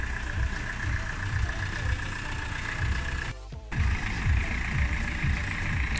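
A BMW motorcycle engine runs steadily after repair, a continuous rough drone with a brief dip partway through, heard alone without talk.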